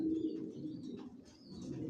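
A racing pigeon of a Janssen long-distance line coos while sitting on eggs in a loft, a soft, low, throaty burble that is faint and close, with no talk.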